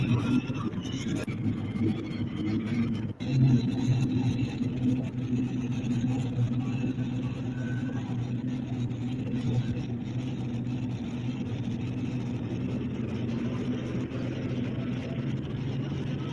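A pulling tractor's engine roaring at a truck and tractor pull in Madera, California, a loud sustained low drone with steady harmonic hum and a brief dip partway through, heard from the stands.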